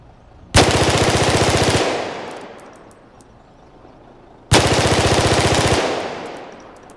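Two loud, close bursts of rapid M16 rifle fire in an Unreal Engine 5 demo, each with an exaggerated, overly punchy initial attack. The bursts last over a second each and trail into long decaying reverb, with a pause between them.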